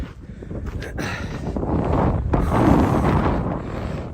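Cold wind on an exposed mountain trail buffets the microphone, a loud, rough, continuous roar that swells and gusts over a few seconds.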